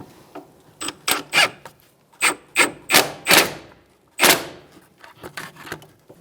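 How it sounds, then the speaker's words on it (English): Ratcheting strokes while an 18 mm wrench snugs the rear strut mount nut on a 2002-2006 Toyota Camry, a series of close, short bursts in uneven rhythm with brief pauses between them and no speech. "So using an 18 millimeter, you're going to hold that still, and you're going to snug up the nut."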